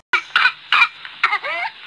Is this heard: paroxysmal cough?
yes